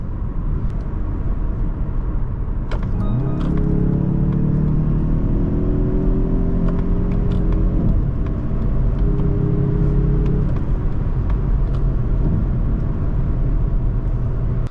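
A 2024 Mazda CX-30 Turbo Premium accelerates under a driver's-seat view, its engine droning and rising in pitch through the gears over heavy, constant road and wind rumble inside the cabin.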